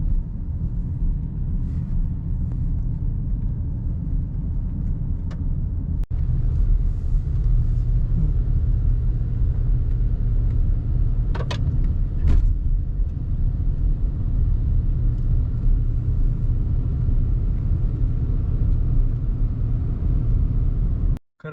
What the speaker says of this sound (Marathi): गाडी ड्रिफ्ट झाली आता